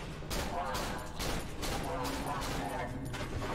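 Dense gunfire crackles from the horror video game Cry of Fear, a rapid, steady run of close shots lasting a few seconds with little pause.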